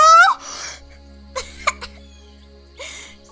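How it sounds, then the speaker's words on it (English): Gagging, coughing and retching sobs from a lone figure in quiet woods, a few short strained coughs and choked gasps separated by near silence, close and moderately loud. "punctuated by gagging, coughing, retching sobs, echoed throughout the lonely stretch of woods"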